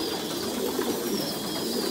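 Thai Titan breeding pigeons coo in a soft, continuous murmur close by, over a steady background hiss with no speech.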